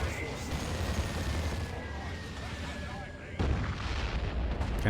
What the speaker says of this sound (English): Manticore strikes on the Land Raider.